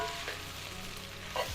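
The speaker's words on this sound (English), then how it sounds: "Give that a nice stir." BBQ chicken and potatoes stirred in a sizzling skillet, a continuous close frying hiss broken by a short utensil scrape near the end.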